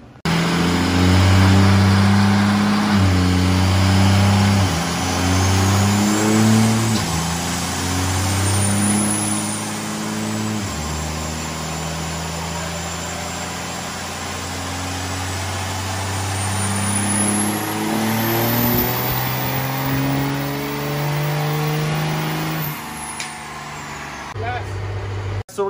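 A Cummins diesel engine run under load on a dyno, loud close roar rising through repeated revving pulls with turbo whine and a steady low drone, some talk underneath.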